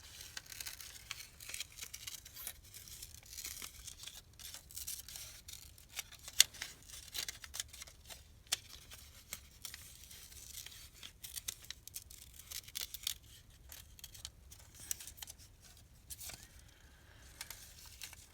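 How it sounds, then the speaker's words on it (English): Large scissors snipping paper scraps for Christmas junk journal embellishments, with quiet, irregular crisp cuts and light paper rustles spread through a close, hushed stretch with no talking. "So just a little fussy cutting with my big huge scissors here."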